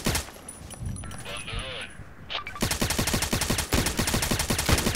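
RFB rifle fire in the shooter game Contract Wars, sustained rapid automatic bursts of loud, close shots running for several seconds after a brief quieter stretch of game noise.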